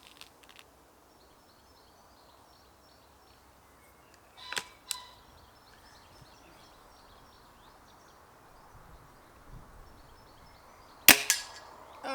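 A new air gun fires pellets into a pellet catcher: a quick pair of sharp snaps near the middle and a louder crack later, each short and crisp against an otherwise quiet room.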